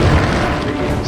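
A loud, close grenade explosion in Resident Evil 4, a single booming crash with a dense rumbling body that fills the whole moment.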